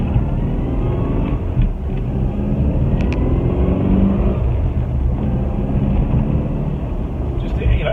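Austin Mini Cooper S Mark III engine rumbling loud and close as it pulls away, a steady droning growl throughout, with someone talking over it.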